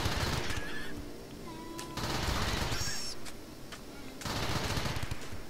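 Rapid bursts of automatic gunfire in the RimWorld video game, loud clattering volleys in several clusters with brief pauses between them, with no speech.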